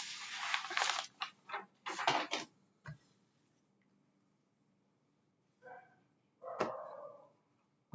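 Dogs bark in short, sharp bursts, a quick cluster at first and then a few scattered barks after a quiet pause, all moderately close with no talking.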